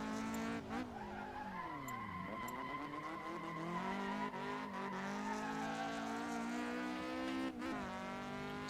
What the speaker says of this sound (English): I slide the car because I feel more comfortable controlling the car mid-turn